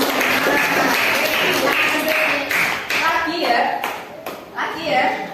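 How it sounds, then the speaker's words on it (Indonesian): A class of children claps for a student group in an Indonesian classroom, a dense patter of hands that runs throughout and thins near the end, with a teacher's voice and kids speaking over it. "Tepuk tangan untuk kelompok 5."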